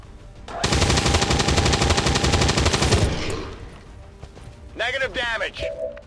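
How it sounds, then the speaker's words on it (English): Rapid automatic gunfire in the video game XCOM 2 rattles loudly for about two seconds, then fades, followed by a warbling, sweeping game effect. "Nicholas does still have a shot, so let's take it, even though the chance to hit is pretty bad"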